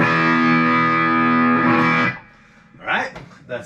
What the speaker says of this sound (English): That's the crunch channel on there.